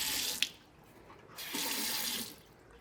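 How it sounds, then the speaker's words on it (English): Hot water runs from a tap down a sink in two bursts of steady splashing hiss, the first brief and the second longer, separated by a quieter gap. "I ran hot water down the sink for a couple of minutes"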